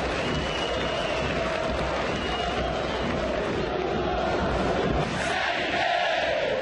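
A stadium crowd at a 2013 Brasileirão match between Criciúma and Corinthians roars continuously during an attacking move, a dense, even wall of chanting and cheering from start to finish.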